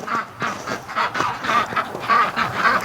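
Ducks quack repeatedly in a quick, uneven series outside a snowy barn in winter, several calls close by and fairly loud, with no talking.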